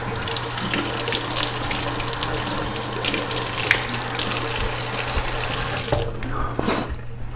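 Tap water runs steadily into a sink as a canvas is rinsed under it, a continuous splashing hiss that swells partway through and then drops near the end.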